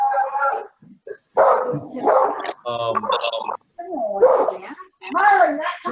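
A dog barks and yips in short bursts indoors, loud and nearby, with a few whimpering sounds mixed in, occasionally overlapping with people talking during a board meeting.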